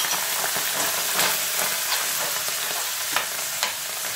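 Green beans with spices heat in a frying pan, sizzling steadily and loudly up close, with spatula stirs and a couple of light knocks near the end.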